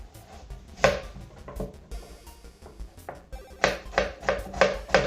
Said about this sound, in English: So let's chop up some onions and see how good it is.